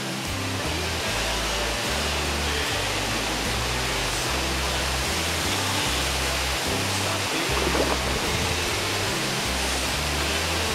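The Lafayete waterfall in Minas Gerais, Brazil, heard up close from a kayak as a loud, steady, broadband rush of falling water with no speech, and low rhythmic thumps underneath.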